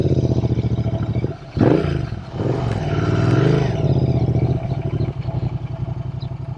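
A custom Royal Enfield Interceptor 650 parallel-twin motorcycle rides off close by, its engine revving up and pulling away in a steady loud drone that rises and falls through the gears.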